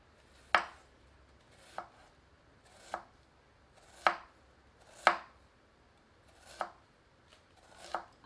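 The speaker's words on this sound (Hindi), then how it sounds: "एक बड़े आकार की प्याज को फांकियों में काट लेते हैं।" A large onion sliced into wedges on a cutting board, giving seven sharp, separate knife chops spaced about a second apart, close and clear with no talking.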